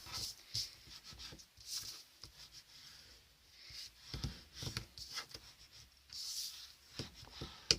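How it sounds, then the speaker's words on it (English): A bone folder is pressed and rubbed over paper glued onto chipboard, giving quiet, close scratchy strokes and soft rubbing swishes in an uneven rhythm, with no talking. "now I'm going to get my bone folder and press everything down really well"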